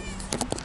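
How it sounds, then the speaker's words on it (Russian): A house cat gives two or three short close meows in quick succession over a quiet indoor room background. "киса мяу и Ника мяу"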